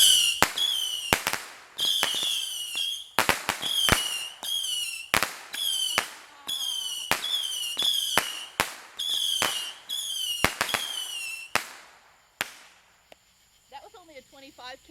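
Fourth of July firecracker string going off up close, a rapid run of sharp bangs with fizzing whistles between, loud and continuous for about twelve seconds before fading into quieter crackle.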